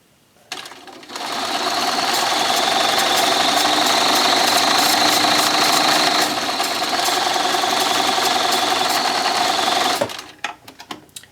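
A sewing machine stitches a hem on a folded T-shirt sleeve, a loud, steady rapid mechanical whir running unbroken for about nine seconds before stopping, with no talking.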